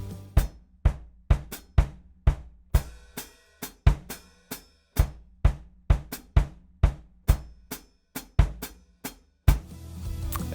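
Kick drum and hi-hat pedals are played by the feet in a 2-against-5 polyrhythm: crisp, close thuds and clicks in a steady interlocking pattern over about ten seconds. A cymbal wash enters at the end, with no talking.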